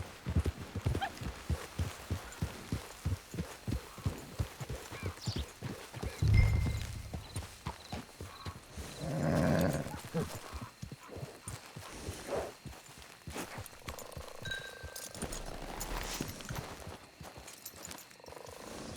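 Clip-clop of horse hooves in the Red Dead Redemption 2 video game, a steady walking rhythm up close with a couple of whinnies partway through and brief bumps of other noise.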